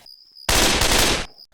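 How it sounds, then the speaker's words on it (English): Desert Rifle from the game Left 4 Dead 2 fires a single dense, loud burst of rapid gunfire lasting under a second, standing alone against quiet surroundings. "Right now, it still sounds like the Desert Rifle."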